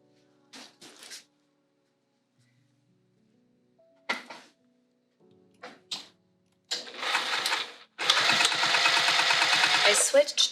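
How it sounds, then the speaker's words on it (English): A sewing machine stitches a fabric spring roll pouch: a few short bursts of whirring stitches separated by pauses, then a longer continuous run of fast stitching, close and clear. "and I'm going to sew."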